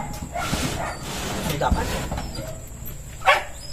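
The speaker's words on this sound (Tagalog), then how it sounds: "iyak-iyak ang aso" A dog whines and yips in a home, short whimpers and a brief bark scattered across the moment, moderately close, with a person speaking briefly.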